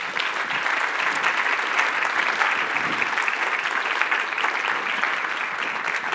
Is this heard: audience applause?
yes